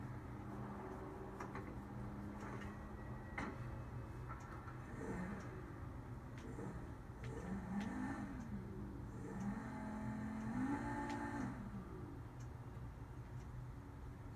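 Lampadati Felon, a video game car with a 4.7-liter V8, revving its engine in rising and falling pulls, fairly faint and steady with no talking over it.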